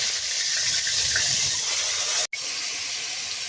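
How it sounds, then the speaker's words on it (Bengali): Taki fish frying in hot oil gives a loud, steady sizzling hiss close by, with one brief cutout near the end. "তেল গরম হয়ে গেছে, এর মধ্যে টাকি মাছগুলো আমি ভেজে নিব।"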